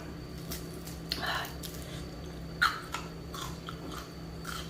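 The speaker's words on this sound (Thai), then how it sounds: "กินกับปลาด้วย แกมนิดนึง ปลาอันนีกรอบมาก" Crunchy fish eaten with rice noodles in boiled fermented fish sauce, close-up crisp bites and soft chewing in a few separate bursts over a steady low hum, with a quiet voice present.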